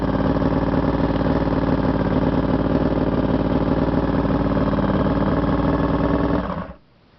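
A rebuilt Honda VFR750 motorcycle engine with freshly redone upper heads idles during break-in, a loud, steady, close rumble that runs evenly and then cuts off abruptly near the end.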